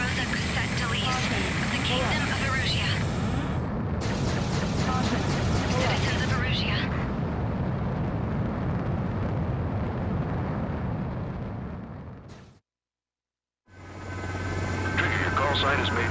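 An X-49 Night Raven jet in Ace Combat 7 roars through a long, loud takeoff, its steady engine rush broken by a brief silence before returning, with voices talking over it.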